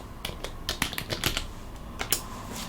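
Someone types on a computer keyboard to enter a search on a Linux desktop. The clicking keystrokes are close and come in irregular bursts with brief pauses, and no one talks.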